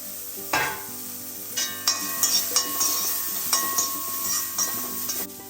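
Peanuts and cashews fry in a pan with a constant sizzle. A spatula stirs them, with repeated sharp metallic scrapes and clinks against the pan.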